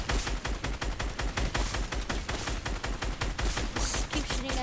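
Rapid gunfire in Fortnite while shooting at flying targets in a warm-up practice mode, a dense, steady stream of loud shots with no pauses and no talking.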